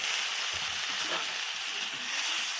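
Water is poured into spice paste frying in oil in a pan for a fish curry with taro and rohu. It makes a loud, steady hiss and sizzle that lasts a few seconds. No one speaks.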